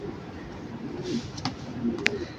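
A young racing pigeon coos softly and close by, with a couple of faint sharp clicks from a quiet room, and little else heard.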